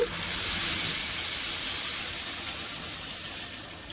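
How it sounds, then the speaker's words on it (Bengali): Water runs into a pot of broken rice as a soft, even, hissing stream that stays steady and close for several seconds, with no voices. "এখন দেব পরিমাণ মতো পানি"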